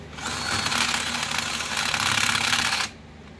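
A cordless drill whirs steadily for about three seconds, a close, continuous buzzing grind that cuts off abruptly.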